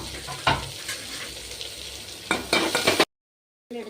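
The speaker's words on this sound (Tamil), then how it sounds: "கருவேப்பிலை போட்டு நல்லா வதக்கி விடுங்க." Shallots, green chili and curry leaves sautéing in a hot pan, a steady oily sizzle with a few louder stirring scrapes near the end, close up and without talk, then a brief silence before the frying resumes.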